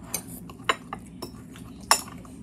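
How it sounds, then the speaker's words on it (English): Cutlery scraping and clinking on a plate as food is cut into pieces, a few sharp close clicks spaced irregularly over low background noise. "Here, I'll cut it in pieces."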